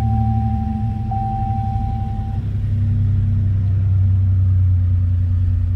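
A 1987 Buick Regal Grand National GNX engine runs at a steady idle, a deep, even rumble close by that swells slightly toward the end, with a thin tone fading out early on.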